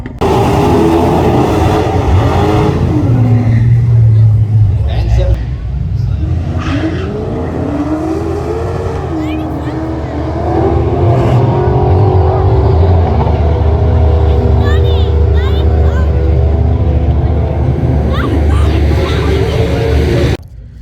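A Holden Kingswood drag car launches on semi-slick tyres at a dragway, its engine revving hard with rising and falling pitch as it pulls away, loud and close, with a brief dip midway before roaring on.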